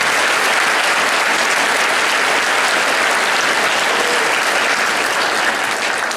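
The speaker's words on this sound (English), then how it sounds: "So let's give them another round of applause." Loud, sustained applause from an audience at a 2012 patriotic school program, steady dense clapping filling the whole stretch without a break and no talking over it.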